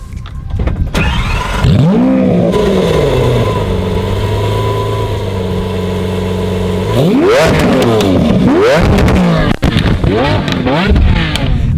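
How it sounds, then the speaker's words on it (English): A Lamborghini Aventador V12 fires with a sharp crackle, then revs hard several times, each surge climbing to a loud howl and falling back to a deep idle, very close and aggressive. "let's get some exhaust clips"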